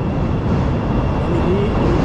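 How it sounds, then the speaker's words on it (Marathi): A Chicago Loop elevated metro train passes overhead, filling the scene with a loud, steady, close rumble and roar that holds without a break throughout. "मेट्रो चालले वरून"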